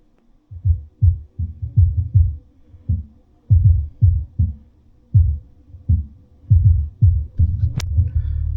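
A Vevor 8-inch under-seat subwoofer pounds out deep bass pulses in irregular rhythmic bursts, each thump loud and close, rattling the floor.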